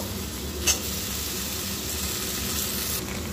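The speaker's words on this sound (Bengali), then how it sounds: "আলুগুলো দিয়ে একটু ভেজে নেব।" Diced potato cubes frying in white oil with bay leaves, a steady, close sizzle with one brief clatter near the start, no voices.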